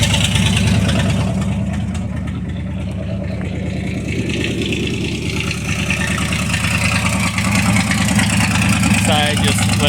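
A Chevrolet C60 truck idles through an old, rusty muffler, giving a loud, steady, rumbling exhaust drone close by, with a voice talking over part of it.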